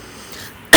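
A single short, sharp cough bursts out close at the end after near-silence, coming from someone at a Theyyam festival.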